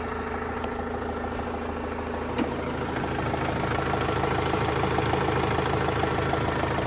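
A 2009 Opel Vivaro 2.5-litre passenger van engine idles steadily nearby, a constant low rumble with a faint rhythmic knock and one brief click partway through.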